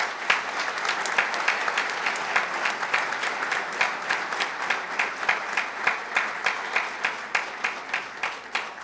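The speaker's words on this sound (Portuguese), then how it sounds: "Uma salva de palmas aos nossos veteranos." A crowd applauds veterans at a military association ceremony, with sustained clapping that settles into a loosely rhythmic, pulsing beat as the audience falls into sync, steady and fairly close throughout.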